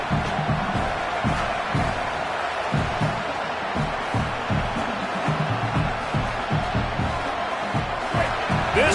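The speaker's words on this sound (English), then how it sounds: "This crowd bringing the energy and noise early." Stadium crowd noise from a college football video game, a steady broadband roar with rhythmic rumbling swells throughout and occasional cheers rising over it, loud and continuous.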